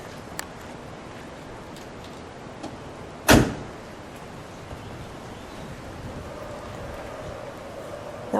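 A door on a 1972 Porsche 914 swings shut in one sharp, solid slam, heard close against a quiet outdoor hiss with nothing else before or after.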